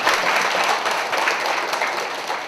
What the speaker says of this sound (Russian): Ну-ка, аплодисменты сильнее.